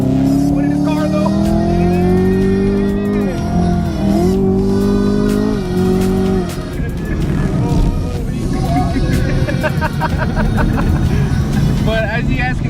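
A 2018 Chevrolet Camaro ZL1 engine revs hard and climbs in pitch as it accelerates, loud and close, with a rising, dipping drone and rough roar through the clip.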